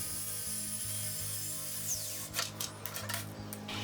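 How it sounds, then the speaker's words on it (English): A wooden farmhouse tabletop being trimmed to final size with a power tool, a steady low motor hum with regular pulses, then sharp rasping cuts and scraping bursts in the second half. "With the planing done, we can trim up the tabletop to its final size."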